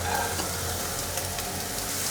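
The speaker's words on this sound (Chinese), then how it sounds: "锅内放入1汤匙的油，油热了，放入香菇爆香。 闻到香菇的香气了，放入红萝卜，" Shiitake mushrooms and carrots stir-fry in hot oil, a close, steady sizzle with light scraping of the spatula across the wok for a couple of seconds.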